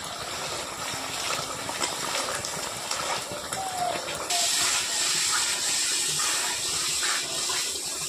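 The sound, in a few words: spice paste frying in a pan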